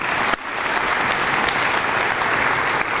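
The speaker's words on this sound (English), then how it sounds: "Can we give them a round of applause?" A crowd claps steadily and fairly loudly for a few seconds, a dense wash of applause.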